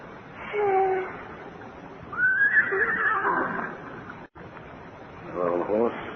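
A horse whinnies in an old Western radio drama, rising and falling cries heard twice over a muffled background, with a short dropout between them.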